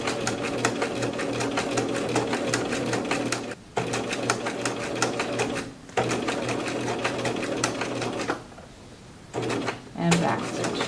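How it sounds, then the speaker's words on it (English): A sewing machine stitches down the side of a lap zipper in garment construction, a loud rapid mechanical chatter running in long bursts with brief pauses and a short stop near the end. "I'm sewing right down the side of the zipper"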